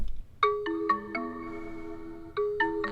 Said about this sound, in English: It's got this cool little sound effect that it has when it starts up.